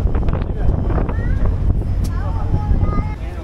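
A large passenger launch moves along a river in Bengal, its steady engine rumble and rushing wind filling the air from the front deck, with faint voices and a few brief high calls over the continuous noise.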